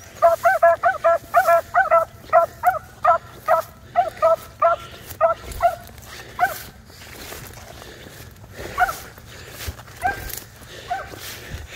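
Beagles bark and yip at a Northern West Virginia beagle club, a quick rhythmic run of sharp barks that thins out into scattered yelps and pauses, fairly close and loud.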